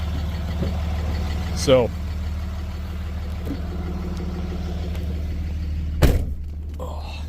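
A Dodge Ram 3rd gen Cummins 5.9 diesel pickup with a BorgWarner S364SX-R turbo and 50 horsepower injectors gives a steady low rumble, nearly warmed up, while someone talks over it and a couple of thunks sound.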